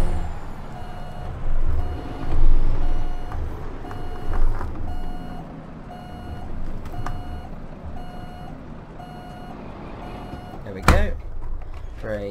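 A truck in American Truck Simulator emits steady, evenly spaced reversing beeps that repeat throughout, over a low engine rumble, with a brief air-brake hiss near the end while someone talks at times.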